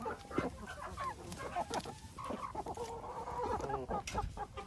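Chickens clucking in a backyard flock of young poultry fed on compound feed, steady overlapping clucks and calls at moderate distance with a continuous busy texture throughout.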